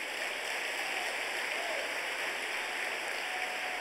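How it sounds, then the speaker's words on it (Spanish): A church congregation applauds during a sermon, a steady, even wash of clapping that holds unbroken at moderate distance throughout. "dale un aplauso a Jesús"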